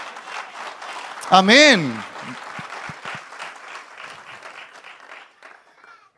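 Church congregation applauding for the Lord during a Spanish-language sermon, a broad wash of clapping with a loud shout-like voice rising over it early on, then thinning out as the clapping fades toward the end.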